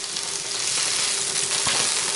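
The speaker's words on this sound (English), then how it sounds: "The food is sizzling on the burner like it's supposed to when one cooks food." Steady, close sizzling of peppers frying in a hot pan, a dense crackling hiss that holds evenly throughout with no talking.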